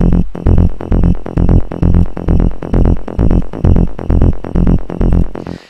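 Punchy synth mid bass hits on the F key in a quick, steady pattern, loud and upfront, with no talking over the repeating notes.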